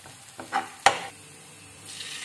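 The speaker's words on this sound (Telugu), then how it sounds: "సన్నగా కట్ చేసుకున్న పచ్చిమిర్చి, వెల్లుల్లి, ఇవి కొంచెం ఫ్రై అయిన తర్వాత టొమాటో సాస్ వేసుకుంటున్నాము" Finely cut green chilies and garlic frying in oil in a pan give a soft sizzle, broken by a couple of quick stirring scrapes and one sharp clink close by.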